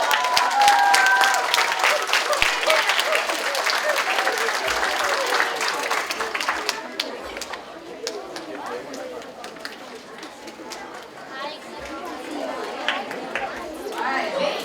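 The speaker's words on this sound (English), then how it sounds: "Let's give a big round of applause." An audience at a DARE graduation claps for parents, loud applause at first that thins and fades to scattered claps, with crowd chatter and children's voices rising through it.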